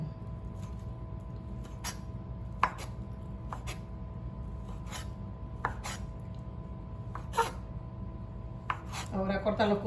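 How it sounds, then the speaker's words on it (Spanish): Bacon being sliced into thin strips on a cutting board: sharp, irregular knife chops spaced a second or so apart over a low kitchen hum, ending in a quicker flurry of cuts. "El tocino tiene que ser cortado bien delgaditas."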